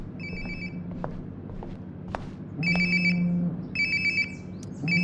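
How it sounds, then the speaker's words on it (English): A cell phone rings in the video game Life is Strange: Before the Storm, bursts of a repeating electronic ringtone with footsteps and small clatters in between, close and clear. "Sounds like my phone is definitely nearby."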